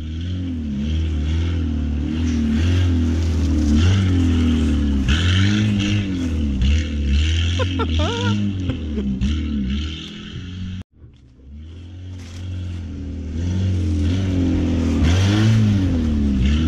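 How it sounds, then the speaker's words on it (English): Small go-kart engine revving steadily and loudly while being driven, with rising and falling pitch as the throttle changes and a brief drop-off before picking back up. "We got Austin driving the go-kart"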